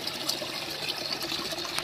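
Steady rushing water from a waterfall in Gaya, Bihar, flows continuously, a broad trickling wash close by, with no voices.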